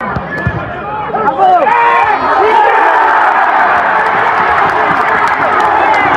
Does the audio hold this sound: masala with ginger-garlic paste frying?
no